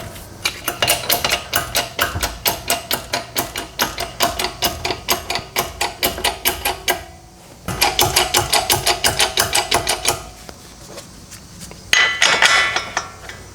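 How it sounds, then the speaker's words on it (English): A bottle jack under a 2011 Chrysler 200 being pumped up during front strut replacement gives rapid, regular metallic clicking strokes in close bursts, pausing briefly around seven seconds and again near ten seconds before a final short run. "So I'm just going to pump up the bottle jack until the holes line up."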